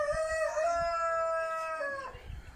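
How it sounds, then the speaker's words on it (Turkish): A rooster crows one long drawn-out call close by at a rural family home in Meram, ending with a few soft clucks from hens nearby, with no talking. "Şöyle horozlarını da görelim, tavuklarını da görelim."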